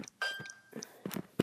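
A single brief, faint Windows 3.0 'Ding' alert tone sounds for about half a second, with soft clicks and thumps before and after.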